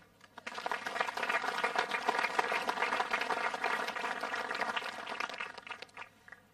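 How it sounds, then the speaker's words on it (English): Audience applause at a military police brigade change of command ceremony, a steady round of clapping that swells quickly and holds for about six seconds before fading. "Round of applause."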